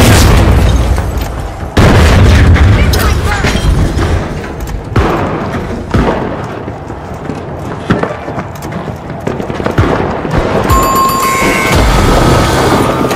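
A frag grenade goes off in the video game THE FINALS with a loud, sudden boom, followed by a sustained roar of game noise and scattered thumps and pops.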